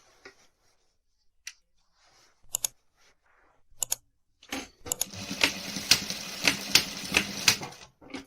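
Sewing machine stitching two pieces of a jacket sleeve together, a brief start then a steady rapid mechanical run of needle strokes, close and clear after a few scattered clicks and handling sounds.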